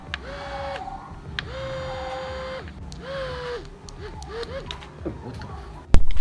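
Small electric motor winding the spool of a homemade retractable Spider-Man Homecoming web shooter, a steady whirring hum in several short bursts with pitch sweeps as it starts and stops, ending in a sharp clack.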